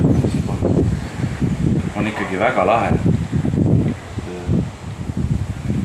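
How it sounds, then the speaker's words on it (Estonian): Steady wind blows outdoors at a hilltop viewpoint, a low rumbling buffet against the microphone that runs under continuous conversational talk for the whole stretch. "seal on tuul."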